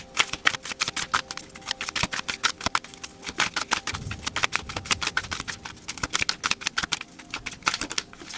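Tarot cards being shuffled before a card is pulled, a dense run of quick crisp riffling snaps and flutters, close and continuous with no talking.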